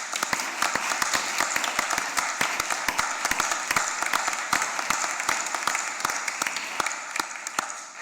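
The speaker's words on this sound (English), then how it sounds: "We have a round of applause for all." Audience applauding new MRCPI members at a medical college membership ceremony: steady, dense clapping from a large crowd, sharp individual claps standing out, fairly loud and sustained for about eight seconds without speech.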